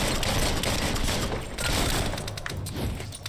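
Rapid bursts of gunfire from the Biomutant video game, loud and dense, crackling continuously with short pauses between volleys.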